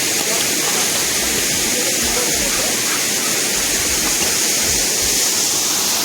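Rani Duduma waterfall at Damanjodi roars as a steady, loud, broadband rush of falling water, constant throughout with no breaks.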